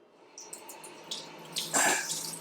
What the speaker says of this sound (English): First thing you want to do is wash the tomatoes.